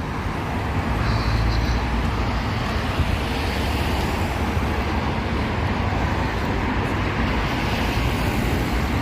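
Heavy street traffic on a busy city street rumbles as a constant dense wash of passing car and bus engines, loud and near, steady throughout with no talking.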